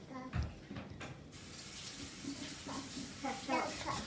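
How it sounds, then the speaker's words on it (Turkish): A kitchen tap runs while hands are washed clean of cornstarch, a steady close splashing rush with a few bumps and a voice speaking briefly. "Elimi yıkayayım hemen."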